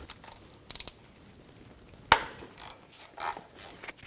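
A ratchet loosens the oil pan bolts on a 1997-2006 Jeep Wrangler with the 2.4L four-cylinder: quiet quick clicking bursts, then one sharp metallic snap as a bolt breaks free, with faint shuffling after.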